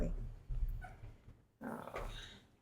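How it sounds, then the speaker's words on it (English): A dog plays with its toy in the background of a sewing session, giving off bursts of low growling and scuffling at moderate distance, separated by brief pauses. "you hear the dog in the background playing with his toy"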